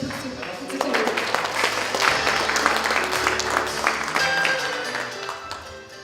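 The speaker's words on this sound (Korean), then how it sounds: "박수로 무대에" An audience at a cooperation conference claps steadily as a speaker comes on stage, a dense, sustained applause that fades slightly at the end, with some voices mixed in.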